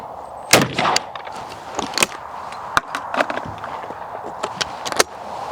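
Shotgun shots fired at clay targets ring out as several sharp, separate cracks spaced about a second apart, some close and loud, over quiet outdoor background.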